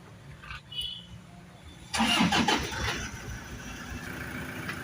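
An old van's engine cranks and catches after a quiet moment, then settles into a steady low idle, moderately close.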